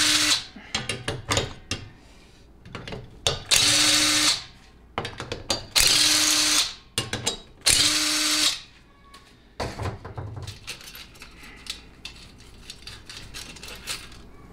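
A power tool such as an impact driver loosens half-inch bolts on a TH350C automatic transmission during teardown, giving several loud, separate whirring bursts between metallic clinks and handling noises.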